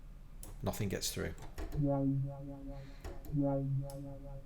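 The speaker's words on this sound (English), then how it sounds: "That wow you're hearing is the filter increasing the cutoff frequency for a period of time and then decreasing it back again" An Arturia Mini-V software synthesizer plays notes through its filter bank with an envelope sweeping the cutoff up and back down, giving a swelling wah-like tone that repeats twice after a stretch of talk and then plays under continued speech.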